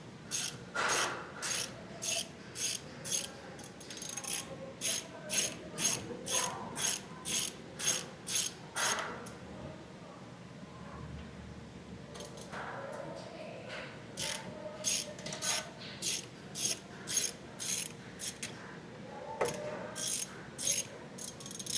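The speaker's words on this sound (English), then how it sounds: "start taking these bolts out" A ratchet wrench backs bolts out of an OPW double-wall MultiPort plate, clicking in rapid bursts of pawl ratcheting separated by short pauses, close and fairly quiet, with someone talking briefly between bursts.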